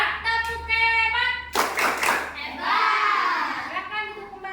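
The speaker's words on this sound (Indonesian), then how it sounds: "Kasih tepuk hebat buat kelompok 3." A classroom of schoolchildren claps a patterned group cheer for a presenting group, rhythmic bursts of clapping mixed with children's chanting voices, loud and close.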